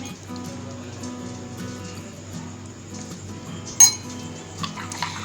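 A spoon stirs mayonnaise, tomato ketchup and chili garlic sauce together in a bowl: quiet, soft scraping broken by one sharp clink of metal against the bowl and a couple of lighter taps.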